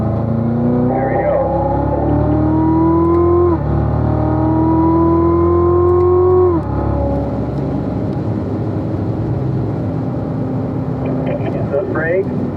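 A car at full power on the Spring Mountain East race track, its loud engine note climbing steadily in pitch, dropping back at two gear shifts, then settling into a steadier drone, with an instructor talking over it.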